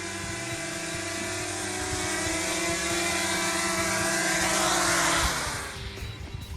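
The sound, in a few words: RC drone flying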